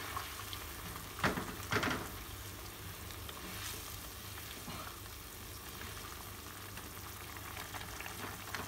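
Sambal goreng ati simmering in a pan as its liquid cooks down, a steady bubbling sizzle with a couple of brief stirring scrapes near the start.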